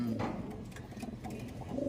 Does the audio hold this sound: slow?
no